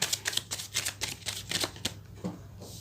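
Tarot cards being shuffled close up, a quick run of crisp riffling bursts and soft flicks, alone with no talking.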